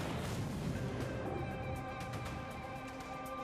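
Artillery barrage called in during a video game, a dense continuous roar of overlapping blasts and crackling impacts throughout, loud with sharp bursts layered over a heavy low rumble.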